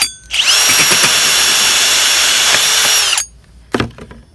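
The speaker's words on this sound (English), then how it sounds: "I just line my drill bit to it with my hole saw" A power drill fitted with a hole saw bites into material for a quail feeder, a loud whining cut lasting about three seconds before it stops abruptly, followed by a short clatter.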